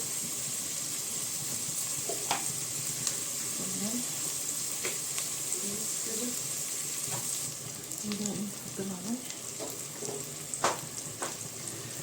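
Finely chopped onion and four garlic cloves fry in a pan, giving a steady, gentle sizzle with occasional faint clicks and stirring sounds throughout.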